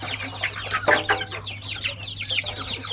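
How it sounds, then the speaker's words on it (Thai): Chickens on a farm cluck and chatter steadily, with several birds calling in overlapping bursts against a constant low hum, with no talking. "ฟาร์มไก่ของอาพรเนาะ"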